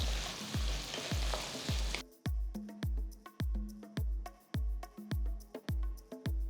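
Pearl onions, garlic cloves and curry leaves sautéing in a pan for a South Indian pepper-garlic curry: an opening burst of loud sizzling, then a run of regular scraping stirs, each followed by a short hiss.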